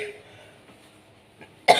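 A woman gives a single sharp, close cough near the end after a stretch of faint room noise.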